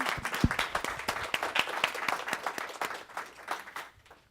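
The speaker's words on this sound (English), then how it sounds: "A big round of applause for our panelists." Audience at a panel discussion on local, organic and sustainable farming applauds the panelists, a lively spread of individual claps, fairly close, tapering off toward the end.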